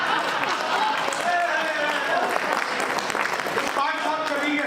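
An audience at a Hindi comic poetry gathering in Patna claps steadily and densely throughout, with voices and cheers rising over the continuous applause.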